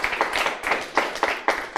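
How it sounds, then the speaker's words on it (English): A studio audience at a Médecins Sans Frontières (MSF) Holland general assembly claps warmly, in a short burst of close, uneven hand claps with no voices over it. "There's a heartfelt applause from the audience here in the studio."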